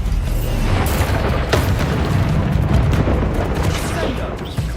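Bombarda blasting spells go off in Hogwarts Legacy, giving a dense, loud run of booming explosions with sharp cracks layered over constant rumbling.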